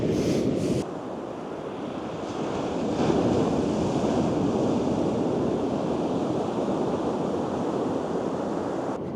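Pounding swell breaking on a beach during a fishing session: a continuous, loud roar of surf with wind buffeting the microphone, the wash swelling a little louder partway through, with no talk.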